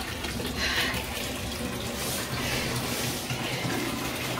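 A tub being filled with water for an ice bath, a steady close rush of water from the tap that runs loud and unbroken throughout.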